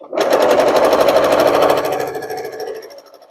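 Sewing machine stitching rows of a quilt block together, a loud, steady rapid whir of the needle running for about two seconds before slowing and fading out, with no talking.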